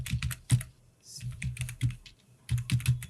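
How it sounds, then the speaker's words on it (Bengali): Keys clatter on a computer keyboard, likely while working in Adobe Animate, in close, irregular bursts of clicks with brief pauses between groups, and no voices over them. "F8 প্রেস করে। সো আমরা লিখলাম ব্যাকগ্রাউন্ড"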